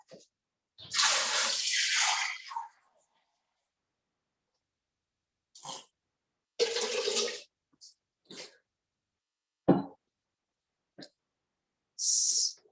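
Water is poured into a pan of stir-fried lo mein noodles, giving short, loud hissing bursts separated by silent pauses.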